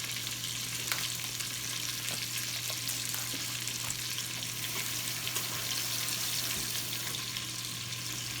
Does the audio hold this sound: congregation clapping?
no